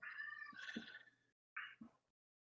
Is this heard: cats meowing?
yes